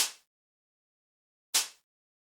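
Two snare ghost hits with a reflective hall reverb cut short by a tight volume envelope, each a bright, breathy burst decaying quickly, well apart and alone.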